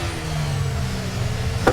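An F1 car in the F1 23 racing game, driving a wet Australian circuit, holds a loud, steady engine note that stays level throughout and ends with a brief sharp click.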